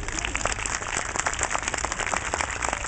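A street crowd in Coyoacán claps for a clown performer outdoors, a lively spatter of many hands close by, uneven and continuous with no speech over it.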